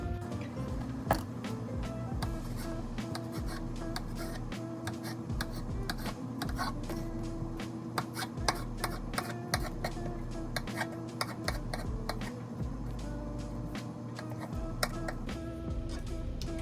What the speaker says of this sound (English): So I'm cutting them into kind of little small pieces.